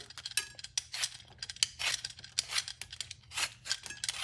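Cassava (yuca) root being peeled and cut with a peeler or knife in a kitchen, giving a close run of quick scraping and scratching strokes in irregular bursts, with no talk.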